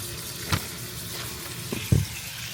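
Peppers, onions and celery fry in a pan with a constant close sizzle. A couple of soft stirring scrapes and thumps rise above it, and there is no talking.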